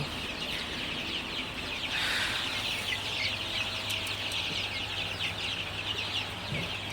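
A crowd of young chicks in a poultry shed on a hot, humid night peeps and clucks constantly, forming a dense, steady chorus with a low hum underneath and no talking.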